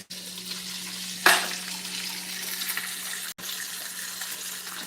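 Bacon fries on high heat in a skillet, a steady broadband sizzle and crackle with a louder burst of spitting early on, continuous and close with no talking.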